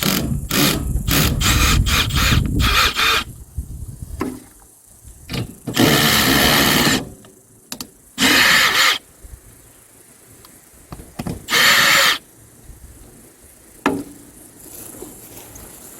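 A power tool spins out 12 mm seat bolts on a 2023 Kawasaki Mule in several short, loud whirring bursts, separated by quiet gaps and faint handling clatter nearby.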